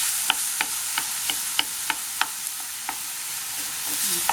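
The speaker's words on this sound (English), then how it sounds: "we do need that mince cooked" Minced meat fries over high heat in a pan for a Bolognese sauce, giving a steady sizzle broken by regular scraping clicks as it is stirred and moved around.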